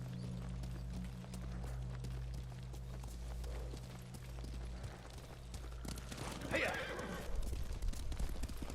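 Horse from Ghost of Tsushima whinnies and clip-clops through game sound, with steady hoof rhythm and a sharper burst near the end, under a low droning score; a voice speaks briefly.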